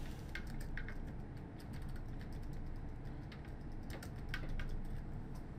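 Quiet computer keyboard typing, a fast run of light clicky keystrokes over steady room hum, with no talk.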